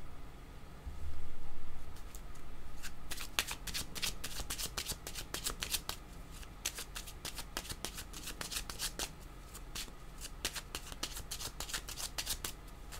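A deck of playing cards being shuffled close up, a dense run of sharp riffling flutters and snaps after a soft handling rustle, no talk.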